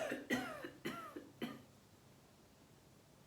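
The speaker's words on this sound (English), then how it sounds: "If you cough into your elbow pit" Three short coughs into the elbow, spaced about half a second apart near the start, then quiet room tone and a faint click at the end.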